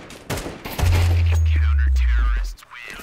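Gunfire in a first-person shooter game: a sharp burst of shots followed by a heavy, sustained low rumble lasting about two seconds, with players talking faintly around it.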